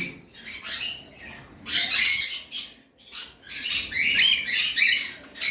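A pair of lovebirds, one blue and one rosy, squawk and chatter in shrill clustered bursts, loud and close, with short gaps between the calls.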